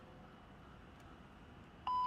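A radio time announcement gives a coordinated universal time signal: a single clean, steady beep cuts in near the end after a quiet hiss and holds to the close.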